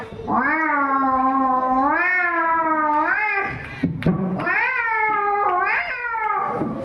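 At a school inter-house cultural competition, a voice imitates big cats fighting with two long, wavering, yowling cries, loud and close, separated by a brief break.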